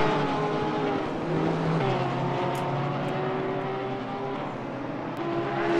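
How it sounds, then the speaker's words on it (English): An Audi V8 race car engine drones loudly at a racing circuit, its pitch stepping up and down through gear changes as a sustained, throaty roar with other cars on track. "a beautiful sounding car, the V8 of the Audi"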